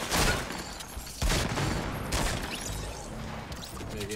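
Bursts of rapid gunfire from a Fortnite Battle Royale match, loud and close, with a sharp heavy volley around the middle and continuous shooting and impacts throughout.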